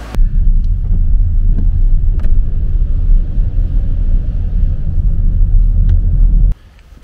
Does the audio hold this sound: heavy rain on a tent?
no